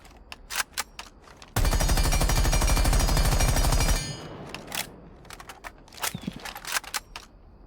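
Rapid automatic gunfire from a gun fitted with an extended barrel in Rainbow Six Siege, one sustained loud burst of about two and a half seconds, with scattered sharp clicks and shots before and after.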